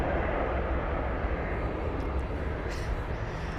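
A British Airways 787 departing from a London Heathrow runway, heard from close by the perimeter fence as a steady, loud, broadband engine roar that holds constant throughout without speech.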